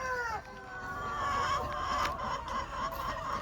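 Tiger breed chickens on a farm with an egg incubator cluck and warble in a continuous, overlapping chorus of several birds at moderate distance over a steady background hum.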